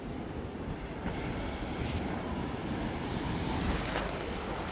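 Sea waves washing steadily at a coastal spot during net fishing for mullet, a continuous broad surf rush with wind noise buffeting the microphone, no voices.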